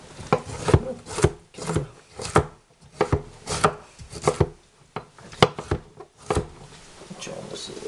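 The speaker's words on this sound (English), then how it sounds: "I'm cutting those again roughly in half" A knife chops carrots for lentil and vegetable soup on a wooden board in a series of close, uneven thuds and scrapes, with brief pauses between cuts.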